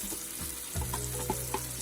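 Candlenuts and white onion sautéing in oil for beef rendang, a close steady sizzle with a sudden surge of frying as more goes into the pan, plus a few faint stirring clinks.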